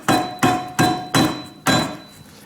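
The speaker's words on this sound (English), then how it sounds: "Now I'm taking a little hammer right here," A small rubber hammer taps a steel part on an Air Lift 88138 Load Lifter 5000 air spring kit during installation on a motorhome, giving five firm, evenly spaced knocks that ring briefly after each strike, close and loud.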